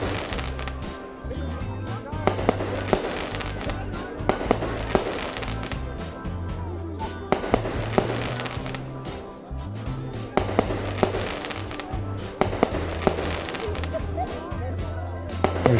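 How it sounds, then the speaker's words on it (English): Fireworks go off in a GameGuru Max scene of a New Year event with music and dancing, giving a dense stream of crackling bursts and pops over a steady thumping music bed, with a voice talking over it. "in a few seconds we should see some fireworks kick off in the distance"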